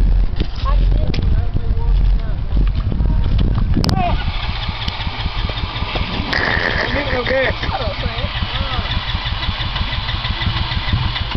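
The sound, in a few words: small motor engine started and running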